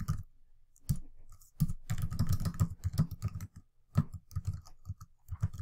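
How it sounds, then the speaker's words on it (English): A student types on a computer keyboard in quick irregular bursts of close, crisp key clicks separated by short pauses, with no talking. "and I can start typing."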